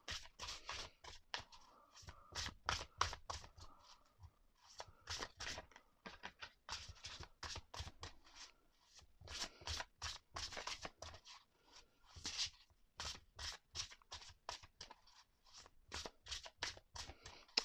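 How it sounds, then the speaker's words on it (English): Oracle deck cards are shuffled by hand, giving repeated quick riffles and soft slapping bursts in a steady rhythm, close and clear with no talk. "I love the shuffling, shuffles well."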